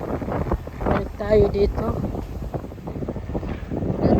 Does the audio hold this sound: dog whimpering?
no